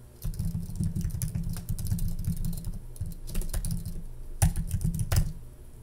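Rapid, steady typing on a computer keyboard, close and clear, with irregular key clatter and a few louder strokes near the end; no voices.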